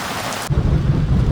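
Loud, dense monsoon rain at Matheran hill station roars steadily, with a deep rumbling swell joining partway through.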